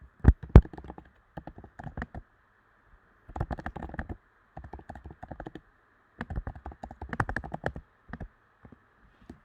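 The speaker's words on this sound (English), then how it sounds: "Let me type." Typing on a computer keyboard: close, crisp key clicks come in bursts separated by short pauses, with a faint steady hum underneath and no talking.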